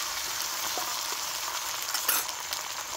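An egg frying in a pan for a Kolkata egg chicken kathi roll makes a steady, close hiss of sizzling oil with a few small clicks and spatters near the end.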